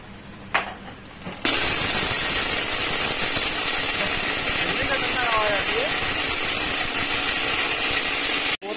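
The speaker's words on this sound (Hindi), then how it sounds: "हो जाएगा ना मिक्सर में बारीक, आवाज करेंगे।" A kitchen mixer grinder chops large pieces into smaller bits, a loud continuous grinding roar that starts abruptly after a brief quiet moment and runs steadily before cutting off.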